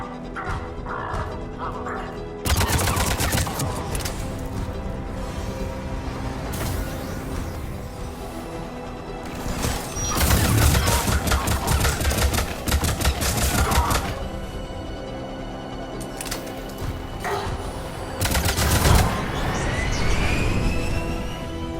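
Gunfire in a Mass Effect 3 firefight against Cerberus forces, with dense bursts of shots and impacts that start abruptly and keep up, flaring in louder volleys, along with clattering hits and crashes throughout.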